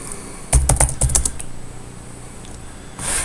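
Quick, light clicking as someone types on a computer keyboard, a short close-up burst of keystrokes followed by a pause and a final faint tap.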